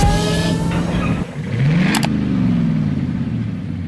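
A three-door Suzuki Jimny cruising at around 60 km/h, its engine giving a steady mid-pitched drone with a brief rise in revs partway through, heard close from inside the cabin.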